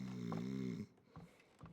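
An elderly grandmother character in the video game Dordogne snores in one long, loud, rumbling breath, followed by quieter breathy snorts.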